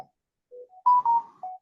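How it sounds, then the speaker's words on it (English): A phone gives a short series of electronic beeps, several brief tones of slightly different pitch in quick succession, clear and close with silence around them. "why my phone is doing this thing"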